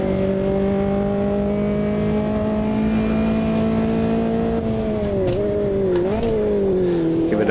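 A race car in Automobilista 2 accelerates hard, its engine note holding a loud, sustained drone that dips briefly near the end, as if easing off for a gear blip, then rises again, with no talking.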